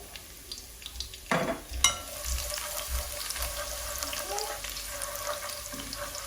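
Fish frying in hot oil in a home kitchen, giving a steady, moderately loud crackling sizzle throughout, with a couple of sharper spits and clatters early on and faint kitchen noises underneath.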